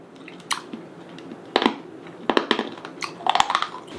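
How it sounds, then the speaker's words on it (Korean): Chewing on very hard, dense gummy jelly candy from a convenience store, with crunchy bites and squishy chomps in irregular bursts, close up with no talking. "파란색은 조그만 걸로 먹어보겠습니다."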